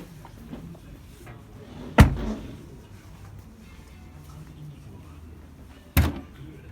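A Volkswagen 4x4's hood is opened: one sharp, heavy clunk, then a second one a few seconds later, both close by over a quiet background.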